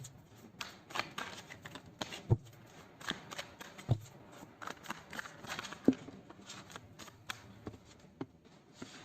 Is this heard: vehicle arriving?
no